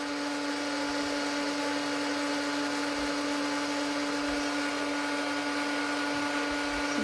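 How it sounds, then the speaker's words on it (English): A craft embossing heat tool runs continuously, a steady loud whirring blower drone with a fixed hum that holds unchanged throughout, with no talking. "it takes a little while for the heat tool to heat up"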